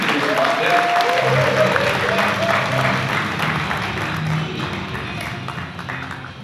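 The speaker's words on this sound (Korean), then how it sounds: "경례의 박수 크게 부탁드립니다" Audience applause at a national security strategy group leadership workshop held indoors at a Korean studies institute, steady and fairly loud clapping from a crowd throughout, with some voices and tones mixed in underneath.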